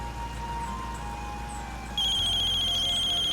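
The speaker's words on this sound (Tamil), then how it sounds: "உங்க ஃபோன் ரிங் ஆகுது." Phone ringtone going off indoors in a domestic comedy-serial scene: a steady, repeating electronic melody that jumps louder and brighter about halfway through, with no talking.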